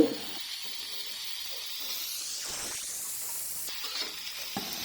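Onions fry in a pan with a soft, even sizzling hiss that stays fairly quiet throughout, joined by a brief whistling tone that sweeps up and down; no one speaks.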